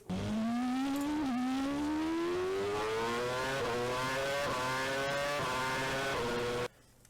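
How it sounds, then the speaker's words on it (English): A car engine revs loudly and alone, its pitch climbing steadily in one long pull with a brief dip early on, then cutting off abruptly near the end. "the characteristics of that engine noise is the notes are exactly the same"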